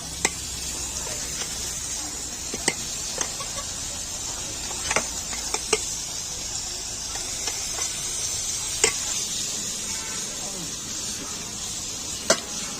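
Paneer fries in a mix of oil and ghee with a loud, constant sizzle, punctuated by occasional sharp clicks of a spatula against the pan.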